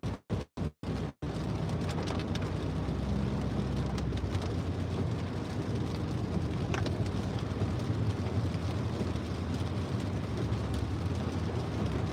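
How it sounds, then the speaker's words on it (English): Heavy rain pelts a moving car on a country road toward a highway, with a dense, steady roar of drops and road noise close around the cabin after a few sharp thumps at the start. "if this weather continues, this is way more rain than last time I was here"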